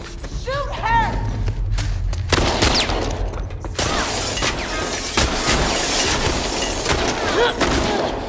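Gunfire and combat noise in the PS5 video game The Last of Us Part II Remastered, with several loud bursts and crashes over a busy, rumbling background while voices shout.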